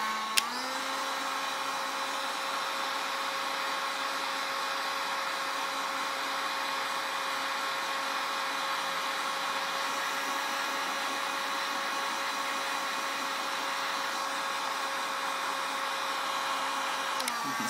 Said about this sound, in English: That's how hot this heat gun is